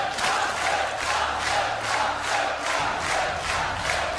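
A large Polish audience at a StarCraft 2 WCS semifinal keeps up a steady, dense roar of cheering and shouting, filling the hall evenly without pauses.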